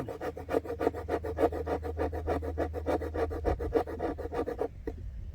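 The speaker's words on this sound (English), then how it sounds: "Make some good fuzz sticks." Knife blade carving wooden fuzz sticks with an AK Pathfinder, a close, rhythmic series of rapid scraping strokes, about a dozen shaving cuts in quick succession before stopping, no voices.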